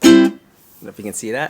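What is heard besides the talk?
No everyday noise stands out behind the speech.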